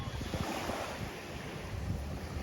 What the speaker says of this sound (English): This is beautiful Railay Beach.